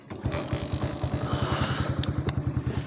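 A motorcycle idles while warming up in the early morning, a steady, close, even chugging pulse with a couple of light metallic clicks near the end.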